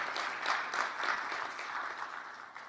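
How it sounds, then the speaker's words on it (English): An audience at a social media and digital marketing masterclass in Swakopmund, Namibia, claps in a steady burst that swells and then slowly fades, a close dense patter of many hands with no talking. "Please give yourselves a huge round of applause simply for being in this wonderful place."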